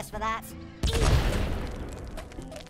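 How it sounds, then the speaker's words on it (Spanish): In the video game Worms W.M.D., a sharp, heavy barrel explosion bursts out after a short vocal sound, then rumbles and decays over a couple of seconds. "explota el barril"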